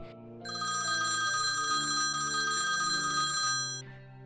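A mobile phone rings in an apartment with a steady electronic ringtone, one sustained burst of repeating tones lasting several seconds before cutting off, loud and close with no voices.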